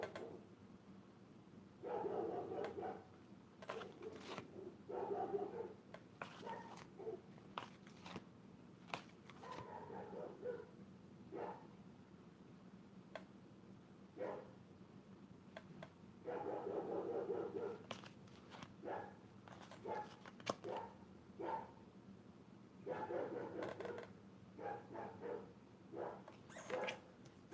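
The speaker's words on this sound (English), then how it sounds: "I apologize if you guys hear dogs barking." Dogs belonging to a neighbor bark in scattered bursts at a distance, faint sharp yaps and woofs recurring irregularly over a quiet room.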